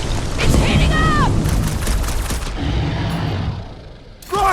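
Fireworks explosions in the Marvel's Guardians of the Galaxy video game boom and crackle in a dense burst, with game characters shouting over the blasts before the noise thins out.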